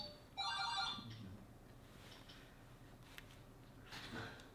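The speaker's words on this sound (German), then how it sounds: "oh, Telefon bimmelt." One short electronic phone ring, a bright warbling tone, sounds faintly near the start, followed by quiet room noise and a few soft clicks.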